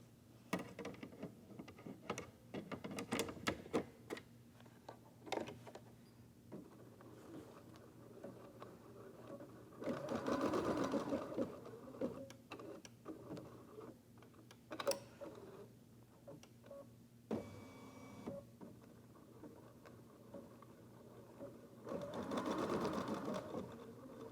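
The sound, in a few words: embroidery machine stitching placement lines for eyeglass case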